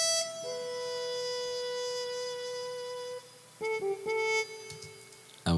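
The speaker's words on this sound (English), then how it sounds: "Muted trumpet without anything sounds like this." Unprocessed muted trumpet playing a sustained tone that shifts pitch once, then a brief pause and a few shorter notes, bright and buzzy, heard alone and close.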